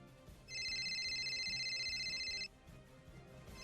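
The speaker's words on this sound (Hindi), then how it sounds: "तभी मेरे फोन पर गुप्ता जी की कॉल आई।" Mobile phone ringing with an incoming call, a bright electronic ringtone of steady repeating tones lasting about two seconds, clear and fairly loud over a quiet hum.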